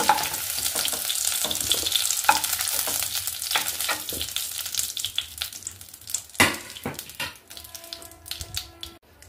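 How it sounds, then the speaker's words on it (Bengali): Oil crackles and sizzles as potatoes and pointed gourd fry, broken by frequent scraping and clattering taps of a spatula being stirred against the pan. "গ্যাস বাড়িয়ে দিয়ে আলুটাকেও ভেজে নেবো এর সঙ্গে"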